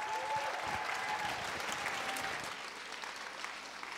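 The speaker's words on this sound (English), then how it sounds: "Can we get a big round of applause for our panel?" A large audience applauds a science panel at an event celebrating women and girls in science, steady broad clapping that fills the room and tapers off slightly toward the end.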